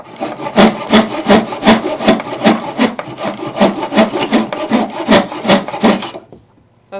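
A hand saw cuts through wood in steady rhythmic back-and-forth strokes, loud and close, with about twenty rasping pulls before the sawing stops near the end.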